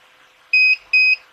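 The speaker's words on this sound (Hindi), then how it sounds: "बजर की आवाज़ दे के ये ट्रिप कर जाएगा" A UPS sounding its overload buzzer as it trips, three loud, evenly spaced high-pitched beeps, the last cut short, over a quiet electrical hum.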